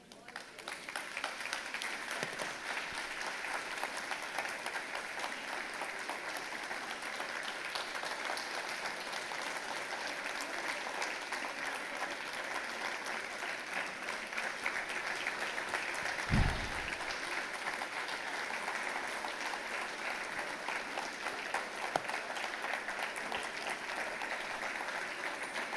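Sustained applause fills a church service, a dense, even wash of many hands clapping throughout, with a brief low thump partway through.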